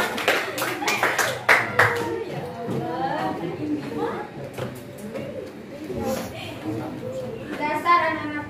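Audience at a school theater play clapping and laughing: a burst of sharp claps at first, then lively laughter and excited chatter from young voices, with scattered claps returning near the end.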